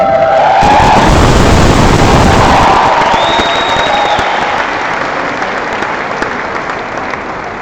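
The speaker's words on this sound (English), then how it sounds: "Please, may we ask you to hold your applause until after each group has been announced in full." A large audience at a graduation ceremony breaks into loud, sustained applause that fills the hall and slowly tapers off.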